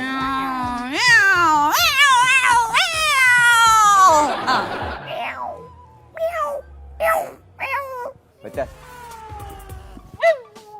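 Voices imitate two cats fighting with rising yowls and screeches, followed by shorter meows, interspersed with laughter and chatter.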